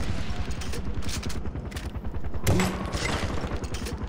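Rapid, continuous automatic gunfire from the video game Far Cry 4, a dense rattling stream of shots with a louder blast near the middle, close and loud without talk.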